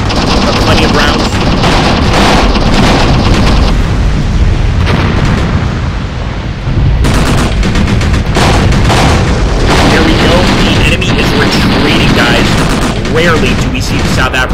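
Dense gunfire and explosions from Graviteam Tactics combat, with rifle volleys, machine-gun bursts and heavy booms rolling continuously at loud level, a voice speaking over the battle.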